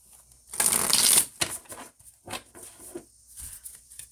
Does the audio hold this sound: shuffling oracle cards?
yes